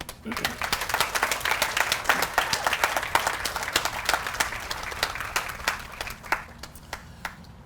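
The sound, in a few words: crowd applause at a garden party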